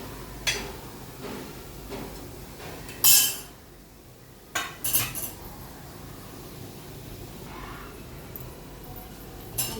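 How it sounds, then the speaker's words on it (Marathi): Fried vadis are lifted out of a pan with a utensil, making intermittent metallic clinks and scrapes, a few sharp knocks against the pan among quieter handling, over a low, steady background. "वड्या आता मी काढत आहे."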